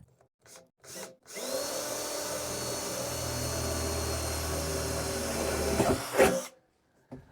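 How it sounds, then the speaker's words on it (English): A power drill whines steadily for several seconds drilling into an old metal potbelly stove, then spins down; short bursts of handling noise come before and after. "So I'm going to drill a hole here and one at 180 degrees on the opposite side."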